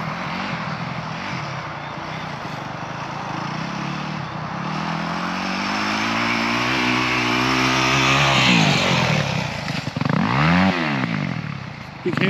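A Yamaha YZ250F motorcycle on a dirt track, its engine revving up and climbing in pitch as it approaches, then passing close by with a loud roar that drops away, alone without talk.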